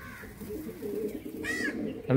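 Pigeons in a Howrah Munsirhat loft give soft, low cooing calls, faint and close against quiet room noise, with a brief higher chirp near the end.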